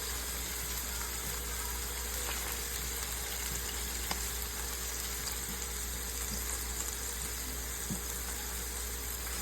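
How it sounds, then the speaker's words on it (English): Italian sausages simmer and sizzle in a skillet with beer, brown sugar and apple cider, a steady continuous frying hiss with occasional small pops and spatters, fairly quiet and uninterrupted by talk. "I let them cook in that beer and the brown sugar and apple cider for about 10 minutes."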